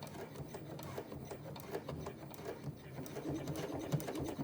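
Sewing machine stitching slowly through thick, bulky fabric layers at a zipper seam on a pouch, giving close, even mechanical clatter with soft rhythmic thumps and no talk over it.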